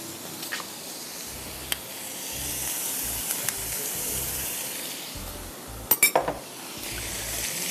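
Boiled chicken and a little yogurt being mixed into masala in a pan: steady soft scraping and stirring with a faint sizzle, and a few sharp utensil clinks against the pan near the end.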